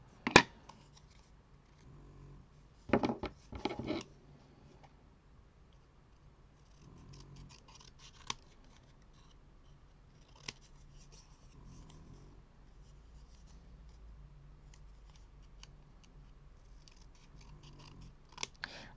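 Scissors cutting through card paper come in a few separate snips and crunches, close and quiet, with long soft pauses between them and a low steady purr beneath.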